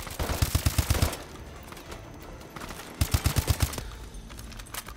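Rapid automatic gunfire from the shooter game Call of Duty: Advanced Warfare comes in two loud, close bursts of about seven shots each, with quieter game noise between them.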